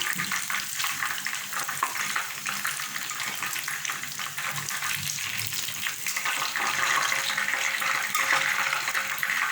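Chicken bites frying in oil, a continuous dense bubbling sizzle heard close, growing slightly louder toward the end with no talk.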